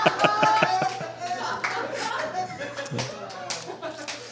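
During an interview, a few people give a thin smattering of claps that starts sharply and then trails off, mixed with light chuckles and talking.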